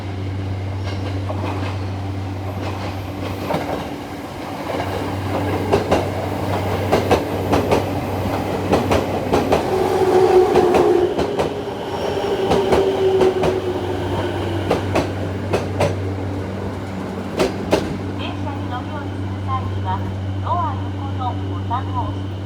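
An electric commuter train on the Narita line's Choshi–Chiba route pulls into Sawara station with a steady low hum, rumbling wheels and rail clatter, while a voice talks over the arrival.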